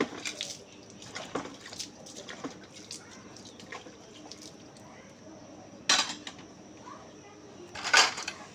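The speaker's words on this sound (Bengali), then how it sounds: "এবার আমি সমস্ত প্লেট বাটিগুলো ধুয়ে নিচ্ছি" Plates and bowls being washed with water in a village home kitchen: soft splashing and dripping with scattered clinks, then two sharper ceramic clatters near the end, close and fairly quiet, with a voice speaking briefly at times.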